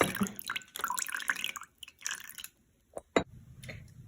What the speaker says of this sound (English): The liquid that's left at the bottom, just drain it out from the ribs, just like that.